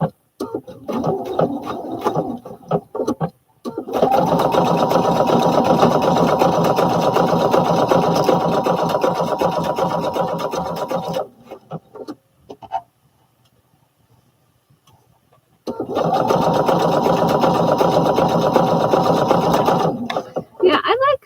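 A sewing machine stitches down pinned pieces of McCall's 7464 overalls in two long steady bursts of close, rapid mechanical whirring, separated by a quiet pause, with talk at the start.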